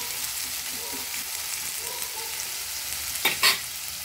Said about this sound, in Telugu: దీన్ని ఇలా కలుపుకొని కాస్త కలర్ వచ్చే వరకు వేయించుకోవాలి